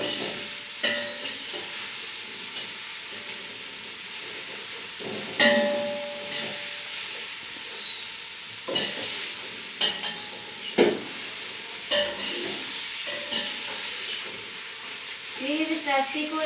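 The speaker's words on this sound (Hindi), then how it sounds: "इसको अच्छी तरह फ्राई करना है।" Food for a Chinese-style dish fries in a pan with a soft, steady sizzle and hiss, broken by clinks and scrapes of stirring and short bursts of sound.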